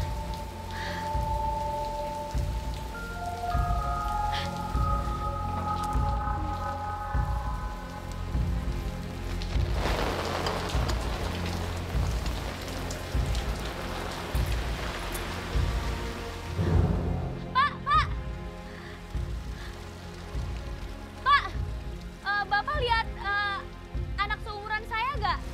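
Steady rain falls through a dramatic outdoor scene, a continuous wash of patter under background music with people talking over it.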